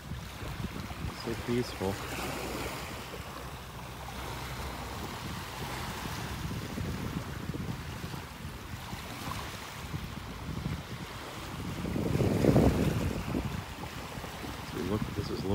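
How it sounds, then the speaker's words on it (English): Ocean waves wash onto a beach in North Naples, Florida, under constant wind buffeting the microphone. A louder wave surges near the end, and a person speaks briefly. "Relaxing, standing here listening to the waves."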